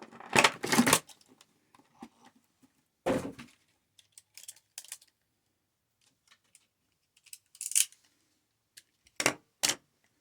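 Scissors snip through plastic toy packaging to free a GI Joe Classified Zartan figure and bike, several sharp close cuts and rustles separated by quiet pauses.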